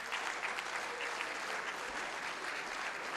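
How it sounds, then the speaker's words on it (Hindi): Steady, dense applause from a mushaira audience in Qatar welcoming the poet Iqbal Ashhar, a continuous roomful of clapping at moderate distance with no voice over it. "आप सब की तालियों की गूंज में मैं इकबाल अशर साहब से गुजारिश कर रहा हूं कि वो तशरीफ लाएं।"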